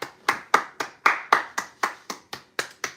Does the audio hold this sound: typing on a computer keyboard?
no